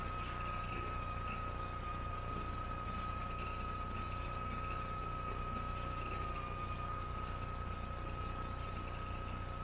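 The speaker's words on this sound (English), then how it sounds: "Let the engine warm up." A Pitts S2B aerobatic biplane's engine idles while warming up, a steady droning hum with a sustained tonal whine, continuous and unchanging with no talk.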